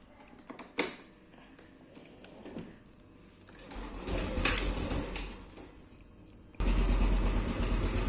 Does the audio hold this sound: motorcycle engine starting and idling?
yes